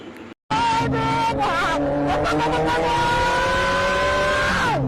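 A high-speed train arrives with a loud, close, steady engine roar and rising whine, sounding much like a motorbike and fading in tone at the end, after a brief drop to silence near the start.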